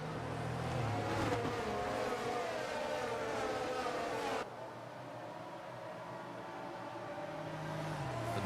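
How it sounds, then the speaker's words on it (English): Aston Martin Formula 1 car in the F1 22 video game at Austria, its high-revving engine note droning steadily and loud, shifting pitch with gear changes through the whole run. "The noise of that Aston Martin is absolutely gorgeous"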